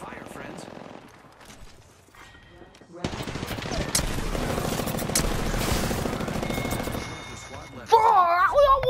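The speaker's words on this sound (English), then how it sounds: "I am taking fire, friends." Video game gunfire: after a quiet stretch with faint sounds, dense rapid machine-gun fire breaks out around three seconds and keeps going loudly, followed by a sharp tonal game effect near the end.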